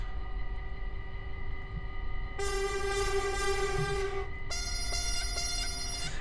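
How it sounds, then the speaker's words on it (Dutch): A small, high-pitched train horn in Train Simulator 2015 sounds in two steady tooting blasts over a continuous low rumble of the train, with no talking. "Klinkt wel hilarisch, dat kleine toetertje, hè?"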